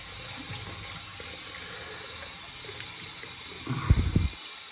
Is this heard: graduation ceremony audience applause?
no